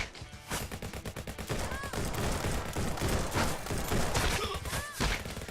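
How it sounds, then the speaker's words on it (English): Dense, continuous volleys of gunfire strike the player in the VR shooter Guns n Stories: Bulletproof, loud and close with rapid overlapping shots and thuds filling the whole stretch. "Oh, I'm getting shot."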